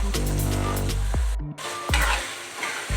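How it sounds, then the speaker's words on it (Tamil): Chicken liver sautés with masala in a pan, a loud close sizzle broken by a few sharp scraping strokes of a spoon stirring it, with a brief dip in the middle and no voices. "இது அப்படியே நம்ம வந்து இந்த மசாலா கூடயே அப்படியே இதுலேயே கொஞ்ச நேரம் வதக்கி எடுத்துக்கலாம்."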